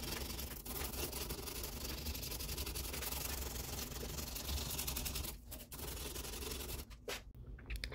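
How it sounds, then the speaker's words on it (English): A Damascus steel chef knife sanded by hand with sandpaper, producing a steady, dense rubbing hiss close up that carries on for several seconds before brief pauses near the end. "So I gotta clean this up right here, all sandpaper."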